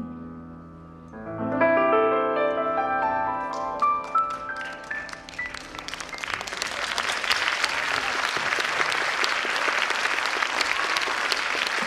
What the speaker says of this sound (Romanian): Mulțumim pentru aplauze.